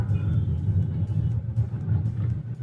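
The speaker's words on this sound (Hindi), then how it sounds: "फिलहाल मैं चला रहा हूँ फोर्ड इको स्पोर्ट।" Ford EcoSport engine rumbling steadily from inside the cabin while driving, a continuous low drone with no talk over it.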